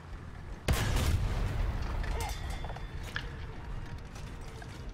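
A 37mm tank gun on an M3 Lee fires in the War Thunder video game, one sharp loud blast followed by rumbling engine and mechanical clatter, with no voices.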